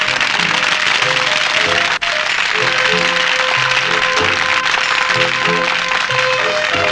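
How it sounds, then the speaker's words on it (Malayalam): Dense, steady audience applause for a magician's stage act, loud and continuous, with a music-like tonal bed beneath it and a brief drop partway through. "എല്ലാവരും കൈയടിച്ച് പ്രോത്സാഹിപ്പിക്കും."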